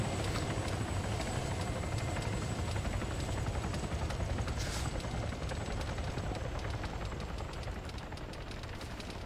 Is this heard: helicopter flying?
yes